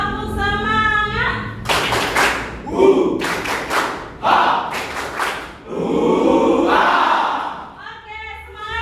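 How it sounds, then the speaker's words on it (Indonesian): Schoolchildren in a classroom perform the tepuk semangat clapping chant, shouting rhythmic syllables in unison between bursts of group claps, loud and close, with a teacher's voice briefly heard. "kita tepuk semangat"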